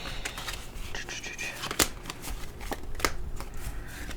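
Cards being shuffled for a card reading give close, papery riffles and crackling bursts in a steady, uneven rhythm for several seconds.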